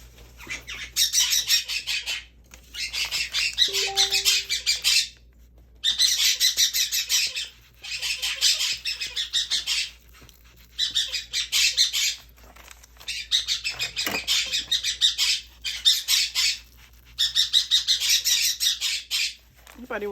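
Pet birds squawk and chatter repeatedly in bursts from another room during a paper craft session, harsh and fairly loud, with brief pauses between volleys and no talking.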